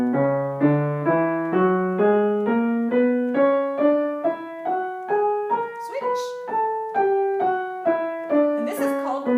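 A piano plays an ascending B melodic minor scale, one clear note at a time at an even pace, each tone ringing cleanly.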